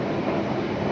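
A metro train runs through the new underground Howrah metro station beneath the Ganga river, giving a loud, close, continuous rumble and roar with no voices.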